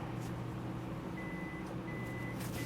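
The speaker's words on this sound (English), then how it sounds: "My printer is beeping," An office printer or copier gives three evenly spaced beeps. Each is a short, thin electronic tone, faint against a steady hum of room noise.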